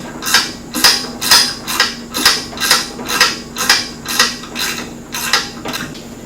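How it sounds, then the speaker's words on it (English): Small ratchet turning out screws on the clutch of a Polaris RZR 900S, about ten evenly spaced metallic clicking bursts in a steady rhythm, close and fairly loud. "we can take a small ratchet and remove these 5 screws"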